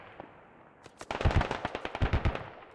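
A DShK heavy machine gun fires on a checkpoint in the Squad video game: after a quiet lead-in, a rapid string of loud, punchy shots hammers out in a steady rhythm for nearly two seconds.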